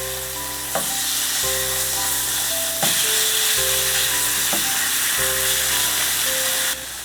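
Meat fries in butter for a high-protein lunch, a steady close sizzle running the whole way with a few sharp utensil knocks and a low hum beneath, with no talking.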